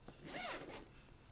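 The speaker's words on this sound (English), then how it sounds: "So also with our wraparound zipper here, and this one has deeper pockets." A wraparound zipper on a hard carrying case for pool cues is pulled in one quick, close, raspy stroke that rises and fades within about a second.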